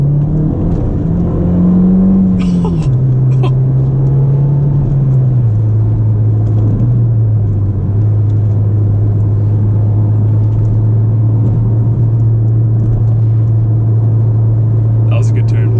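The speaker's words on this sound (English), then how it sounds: "If you can't stop driving your car, you know you got a good car." A Ford Fiesta ST drives through a series of bends, its engine a steady, close humming drone that shifts pitch slightly as the car slows and settles into each curve.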